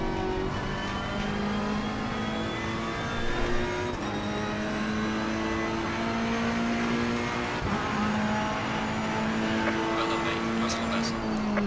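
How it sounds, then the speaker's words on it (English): A race car engine in Assetto Corsa Competizione pulls hard through the gears during a multi-class online race at Watkins Glen, with a loud, steady rising drone and gear-change dips. Someone talks over the engine. "On the power again, into third gear."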